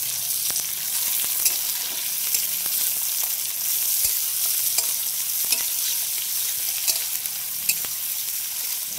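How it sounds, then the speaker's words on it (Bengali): Onion frying in oil gives off a continuous crackling sizzle, close and steady, punctuated by sharp clicks of a spatula stirring against the pan. "এটা একটু তেলে ভেজে নিচ্ছি, একটু পেঁয়াজটা দিয়ে দিচ্ছি।"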